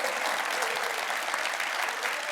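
A studio audience applauds steadily at a televised New Year town hall with Incheon's mayor, a dense, even wash of clapping that fills the whole stretch.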